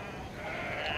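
Sheep bleating on a ranch, one brief wavering bleat rising a little toward the end over faint background hiss, fairly close and moderately loud.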